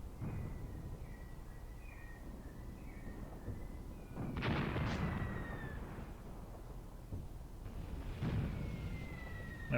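Artillery shelling in Graviteam Tactics, two dull booming impacts with rumbling tails standing out from a constant background of battle noise and faint whistling tones.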